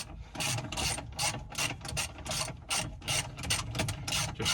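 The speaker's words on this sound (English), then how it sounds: "This ratchet's a little tired." A ratchet wrench clicks in quick repeated bursts of sharp ratcheting as parts are removed from a cabover parts truck, close and clear with brief pauses between strokes.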